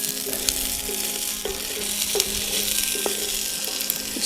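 Sugar snap peas and other vegetables sizzle steadily in a pan on a camp stove, a continuous close frying hiss with a few soft stirring scrapes and no talking.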